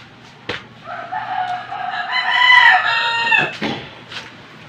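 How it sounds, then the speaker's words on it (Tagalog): A rooster crows loudly and close by, one long drawn-out call, with a few sharp clucks and knocks around it. "marami kayong naririnig na talaok sa manok"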